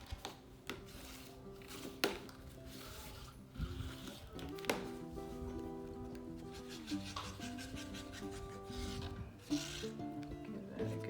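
A bone folder burnishes a paper pocket page for a handmade mini album, making a close, soft rubbing and scraping sound in repeated strokes over a quiet room, with occasional light taps and knocks.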